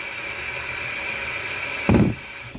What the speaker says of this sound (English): So I'm washing my baby potatoes.